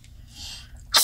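A single sharp sneeze bursts out at the very end after a quiet inhale, close to the microphone and loud against an otherwise hushed indoor room.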